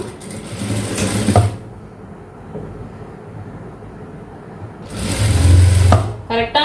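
A sewing machine stitches a blouse shoulder seam in two loud whirring bursts, one at the start and one near the end, separated by a quieter stretch of low background hum.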